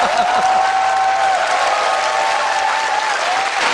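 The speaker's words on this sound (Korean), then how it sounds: "박수 부탁드립니다." Sustained applause from a large audience fills the room, a dense, even clapping that continues loudly throughout.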